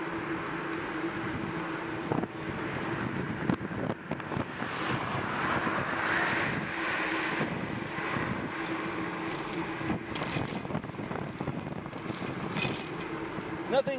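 Cold winter wind roars steadily across the microphone during a bicycle ride, a continuous broad rush under occasional talk.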